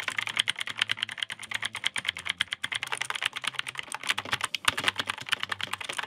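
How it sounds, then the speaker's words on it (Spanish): Rapid, crisp clicky typing on a mechanical keyboard with blue switches, a continuous run of sharp keystrokes close to the listener. "Ahora mismo estoy amando el sonido a Switch Blue."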